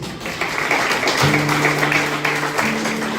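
Church congregation applauding during a sermon, a steady wash of claps over sustained keyboard tones, with a voice calling out faintly beneath.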